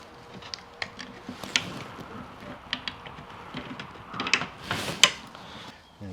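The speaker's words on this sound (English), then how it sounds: "The clamp needs to just go across" A clamp being tightened across the corners of a wooden beehive brood box, with faint clicks, ratcheting taps and small creaks in scattered bursts, close by and quiet.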